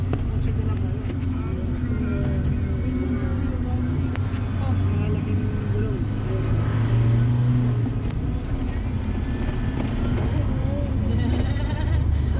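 A jeep drives along a road near Kalayo Beach, its engine a steady low rumble that swells slightly as it passes close by, with people talking over the vehicle noise throughout.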